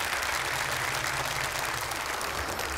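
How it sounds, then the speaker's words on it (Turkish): Audience applause at a Quran recitation competition, a steady, dense wash of clapping from a crowd, loud and unbroken for the whole stretch. "Bir kez daha kendilerini alkışlıyoruz ve uğurluyoruz efendim"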